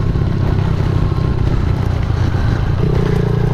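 A Suzuki DRZ 70 kids' dirt bike runs close by under steady throttle, its small engine giving a continuous buzzing drone without breaks.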